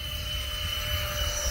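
An electric ducted fan RC model F-117 jet whines steadily at high throttle, a continuous airy roar with a thin tonal hum, heard alone at moderate distance.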